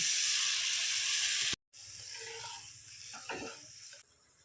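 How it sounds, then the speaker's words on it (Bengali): Coconut milk goes into a pan of hot spice paste and oil for a Bengali prawn malai curry, giving a loud steady sizzle and hiss, a brief break, then softer bubbling frying. "এবার আমি নারকলের যে দুধটা দিয়ে দিচ্ছি"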